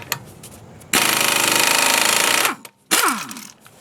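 A pneumatic impact wrench loosens a 21mm lug nut on a 2011 Nissan Altima, one loud, close, rattling burst of about one and a half seconds followed by a shorter second burst.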